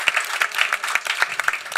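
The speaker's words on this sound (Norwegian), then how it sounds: "det fortjener vel også en klapp" An audience at a youth party leaders' political debate claps in a steady burst of applause, dense and continuous with no speech.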